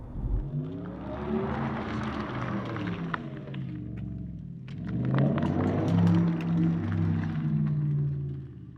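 A 2025 Porsche Taycan Turbo GT heard from outside makes a smooth electric whine and rumble that swells twice as it accelerates, moderately loud with no voices.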